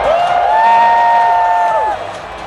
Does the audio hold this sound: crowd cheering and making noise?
yes